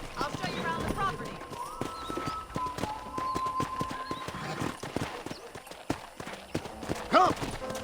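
Horse hooves clip-clop at a steady walking rhythm in Red Dead Redemption, close and fairly loud, with a brief whinny near the end and game dialogue and music playing over them.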